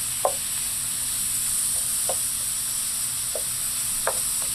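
Ground beef and chili powder sizzle in a pan for beef chili, a steady close frying crackle broken by a few sharp scrapes and knocks from stirring.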